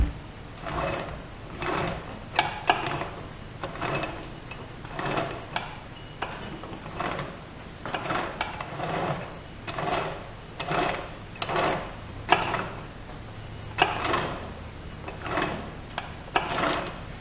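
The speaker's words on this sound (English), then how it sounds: "Spin the axle a little bit." The rear axle of an 8.8 rear end on a 1989 Ford Ranger being turned by hand: repeated rhythmic mechanical rubbing and clicking cycles about every second, close and steady, with no voices.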